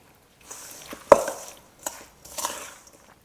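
Christmas pudding mixture with butter stirred in a bowl, a few separate scraping and knocking bursts with one sharper clack of spoon against the bowl, close and fairly quiet, no voices.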